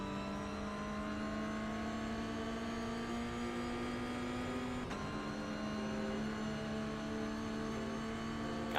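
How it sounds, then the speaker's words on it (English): A steady car engine drones in a video game, holding a constant pitch with a brief dip midway, loud and continuous with no talking. "the car is too loud, I can't hear it."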